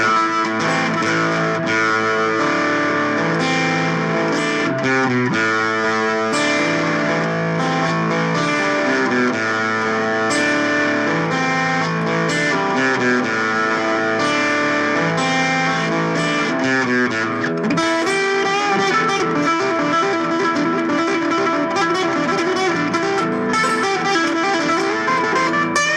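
An acoustic guitar through a Fishman Ellipse Matrix Blend distortion effect plays sustained chords, electric-sounding, loud and continuous, with shifting harmonies and no talking.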